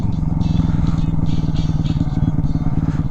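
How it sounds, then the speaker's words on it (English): A Honda Grom motorcycle with an AR exhaust idles and revs loudly up close, its steady rapid engine pulse running throughout, with some faint clatter. "Let's try to get this thing in the air. See if I can wheelie it real quick."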